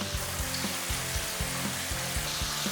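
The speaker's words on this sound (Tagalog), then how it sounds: "At ituloy na natin yung pagprito pa ng iba pang mga natirang chicken." Chicken pieces frying in hot oil for Filipino fried chicken, a steady dense sizzle with faint crackles and a few soft low bumps from stirring or utensils, close and continuous with no talking.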